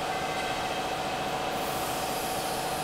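A 15 kW Siemens electric motor drives a trailer fender forming machine, giving a loud, steady, continuous mechanical hum with no pauses.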